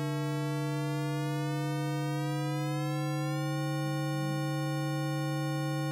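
A XAOC Devices Odessa synthesizer drones as its harmonic series shifts away from normal, the upper partials sliding apart into a metallic, bell-like tone over a steady low fundamental, with no talking.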